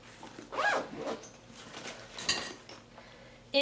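A gym bag zipper is pulled in a few short, scratchy bursts at close range, with light rustling and handling noise between the pulls.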